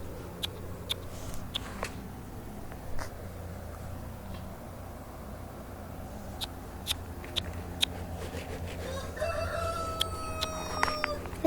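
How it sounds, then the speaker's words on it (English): Baby chicks give sparse, scattered peeps and chirps over a low rustling background, growing into a busier cluster of calls near the end. "Look at my baby chicks."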